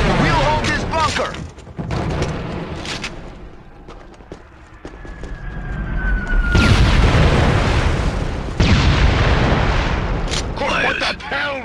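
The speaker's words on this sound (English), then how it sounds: "Taking heavy fire!" Heavy gunfire and thudding explosions in the PS2 shooter Killzone, a dense, loud barrage with booming impacts swelling and receding, running under shouted battle dialogue.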